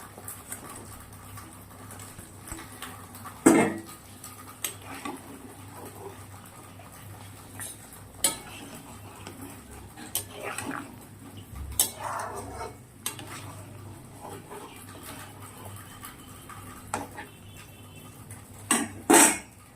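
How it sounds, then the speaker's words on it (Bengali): Fried fish pieces go into a pot of boiling fish curry: a low bubbling hiss runs throughout, broken by scattered clinks and scrapes of a utensil against the pot. "মাছের ঝোলটা ফুটে এসেছে, এবার মাছগুলো ভেজে রাখা মাছগুলো দিয়ে দেবো।"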